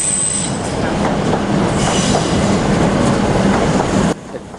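Trains roll through the railway deck beneath Federation Square in Melbourne with a loud, steady rumble, wheels squealing and rattling on the track for about four seconds before the sound cuts off abruptly.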